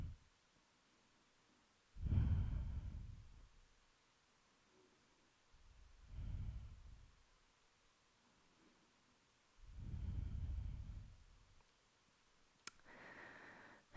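Slow, deep breaths during a yoga hip stretch, heard close and soft: about four long, airy inhale and exhale swells spaced a few seconds apart, ending with a faint click.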